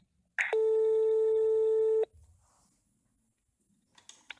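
A steady electronic telephone tone sounds loud and continuous for about a second and a half while a French call is being transferred, followed by near silence and faint clicks.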